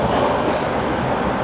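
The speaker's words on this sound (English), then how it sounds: "I'm currently riding the train home." Subway train rolling along the tracks of Toronto's transit line, a loud steady rumble and roar from inside the car with no voices.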